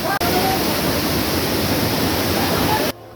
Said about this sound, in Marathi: पाण्याचा प्रवाह एवढा जास्त होता की प्रॉपर उभा राहता येत नव्हते